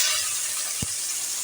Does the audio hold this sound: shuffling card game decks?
no